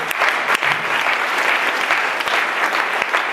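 A church congregation breaks into sustained, dense applause that fills the whole moment, many hands clapping loudly and evenly with no voices over it.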